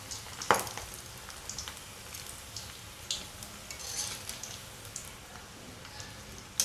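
Cabbage Manchurian fries in a pan on medium heat, giving a faint, steady sizzle with scattered small pops and crackles and one sharper tick near the start.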